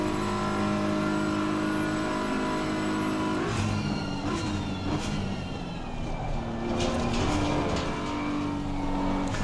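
A race car in the video game Assetto Corsa Competizione runs while its tyres are warmed, with steady engine tone, gear shifts and revs rising and falling across the clip, no talking.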